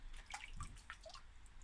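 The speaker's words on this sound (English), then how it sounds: "I'm just going to dip them in here to give them a bit more of a rinse." Fossils are dipped and rinsed in a mop bucket of water to loosen softened mud, giving short, close splashes and drips with small gurgles over a steady background hiss.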